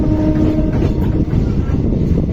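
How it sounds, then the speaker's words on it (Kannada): DEMU express train 11415 on the Solapur–Hosapete route switches lines at a junction, a loud, close, continuous rumble with rattling clatter and a faint steady tonal hum. "ನೋಡ್ರಿ ಟ್ರೈನ್ ಇಲ್ಲೇ ಡೈವರ್ಟ್ ತೊಗೊಂತಿ, ಇಲ್ಲೇ ಲೈನ್ ಚೇಂಜ್ ಆಯ್ತು ನೋಡ್ರಿ"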